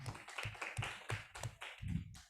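A small audience at a biodiversity talk series claps sparsely, about eight distinct claps in an uneven rhythm, faint and somewhat distant, with no talk.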